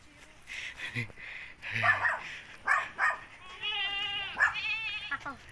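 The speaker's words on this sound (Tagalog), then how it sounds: "naririnig ko na yung kambing ni Kuya El." Goats bleat in short calls amid nearby chatter, with a dog barking briefly in the mix; people talk throughout, outdoors in Morong, Rizal.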